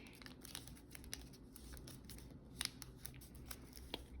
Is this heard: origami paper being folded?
yes